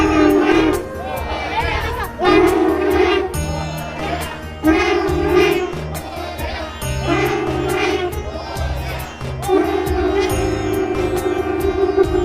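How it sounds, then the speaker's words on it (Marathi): Huge crowd at Alka Chowk in Pune during Ganesh visarjan, a dense roar of voices and chanting mixed with rhythmic drumming, loud and sustained with surging shouts. "अलका चौकात तुम्ही बघू शकता किती प्रचंड गर्दी आहे"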